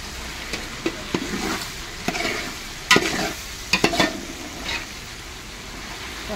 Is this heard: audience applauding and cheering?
no